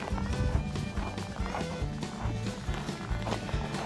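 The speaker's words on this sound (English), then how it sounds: "We're gonna introduce you to all the horses" Horses on a snowy farm, with steady, close hoof clip-clops in a running rhythm and a loud, busy background.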